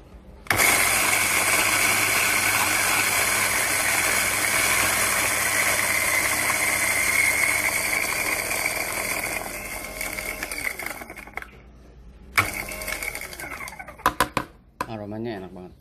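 Electric grinder grinding Java Preanger wine-process coffee beans, a loud steady whirring drone for about eleven seconds that fades and stops, followed by a short burst and a few sharp clicks.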